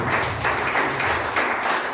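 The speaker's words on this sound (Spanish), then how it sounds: "Dale un aplauso al Señor, hermano." Congregation clapping in a church during a Spanish-language sermon, steady dense applause lasting throughout, moderately loud with no speech over it.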